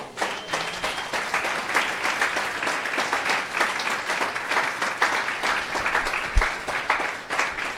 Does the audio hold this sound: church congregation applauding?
yes